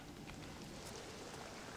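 Steady rain in the stealth video game Thief, a soft, even hiss of falling drops that runs unbroken and faint throughout, with no talk over it.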